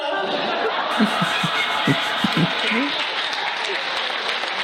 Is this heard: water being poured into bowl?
no